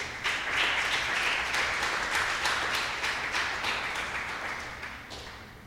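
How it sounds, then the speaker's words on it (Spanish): A church congregation applauds during a service, a full, steady wash of many hands clapping that holds for several seconds and gradually tapers off. "Dale otro aplauso al Señor"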